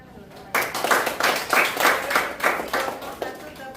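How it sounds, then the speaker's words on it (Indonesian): A group of students and lecturers claps together at the end of a university teaching presentation. The hand claps come in strong, rhythmic bursts, close and lively, fading out near the end. "Oke, tepuk tangan dulu teman-teman."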